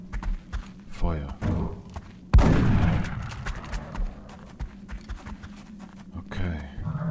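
A loud gunshot or blast from the video game XCOM: Enemy Unknown bursts out midway and decays into a rumbling tail, with someone talking over the game before and after it.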